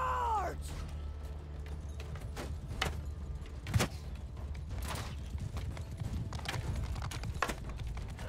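Hoofbeats of charging horse archers pound steadily in Mount & Blade II: Bannerlord battle, amid a busy din of clashing and rumbling, with a brief whinny at the start and occasional sharp metallic hits.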